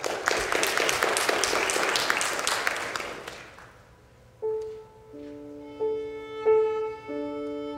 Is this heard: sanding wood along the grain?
no